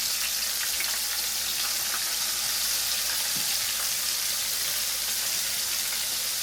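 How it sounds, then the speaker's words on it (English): Flour-dredged pieces frying in a pan give off a loud, steady, dense sizzle with fine crackling throughout, close up and with no voices. "We're just gonna let them fry for about 5 minutes on each side, or until it's golden brown."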